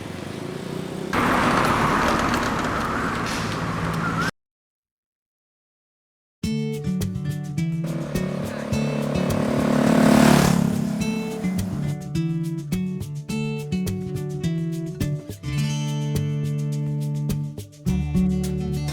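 Traffic on a busy road on Koh Lanta, Krabi, where cars and motorbikes rush past close by in a continuous roar that swells and fades, broken by a short gap of silence, with engine hums rising in the second half.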